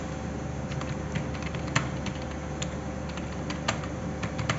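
Computer keyboard typing during a timed government-job typing test, with steady, rapid key clicks and a few sharper taps standing out over a constant background hiss.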